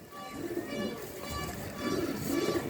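Pigeons coo in low, throaty, rolling calls from two male birds kept in a loft, running steadily and at moderate loudness under a faint background hum.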